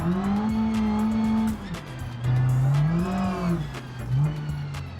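Engine of a turbocharged, modified Renault Twingo in the BeamNG driving game, droning loudly and close as revs climb, dip and rise again across several gear changes.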